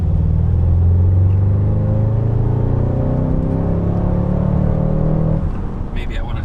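An Audi RS6 Avant launched from drive at full throttle, its engine a loud, deep rumbling roar rising steadily in pitch for several seconds inside the cabin, then easing off near the end.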